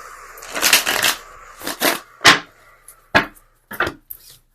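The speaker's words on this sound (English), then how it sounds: "Shuffling became easier." Tarot cards are shuffled in repeated quick riffling bursts, close up, with brief pauses between each shuffle.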